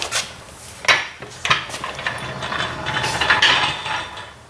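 A car jack lowering a 2007 Ford Ka, close metallic ratcheting and clanking in uneven bursts with a few sharper knocks over a short stretch.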